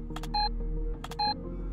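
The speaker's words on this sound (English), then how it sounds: "Beep, beep, beep." Electronic beeps in the video game Haydee, two matching groups of short clicky chirps each followed by a clear tone, repeated about a second apart over a low hum.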